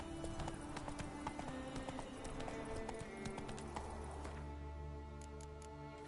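Horse hooves clip-clop steadily in The Witcher 3, a quick repeated beat over layered game music and ambience, with an occasional whinny-like tone.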